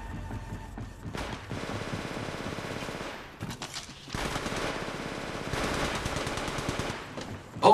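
Automatic weapon fire in Apex Legends Mobile comes in rapid bursts of sustained shots, with short pauses between volleys and a loud final report at the end.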